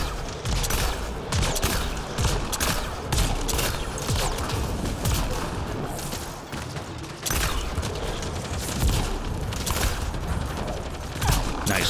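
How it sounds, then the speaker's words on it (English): Rapid, loud bursts of explosive pistol fire from Mass Effect: Andromeda ring out almost continuously, with mechanical clatter between the shots and a brief lull near the middle. "Let's switch to our little explodey pistol."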